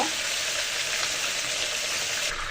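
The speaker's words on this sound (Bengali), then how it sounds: "তো এইভাবে উল্টে পাল্টিয়ে মুরগিটা ভেজে নিব।" A whole chicken fries in oil in a pan for a roast, giving a dense, even sizzle that stays loud and constant throughout.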